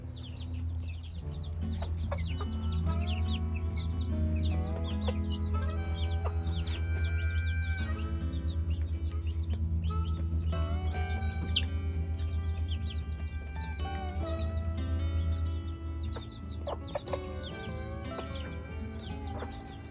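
Cochin bantam chickens cluck steadily in a coop, a busy, close flock chorus that carries without break through the stretch, with a low steady hum underneath.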